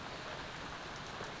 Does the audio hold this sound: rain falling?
yes